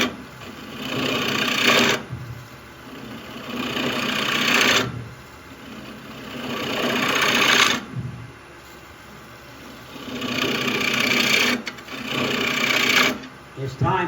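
A chisel makes pull cuts on a segmented wooden bowl spinning on a lathe, a loud scraping hiss that runs in long strokes of about two to four seconds, broken by short pauses.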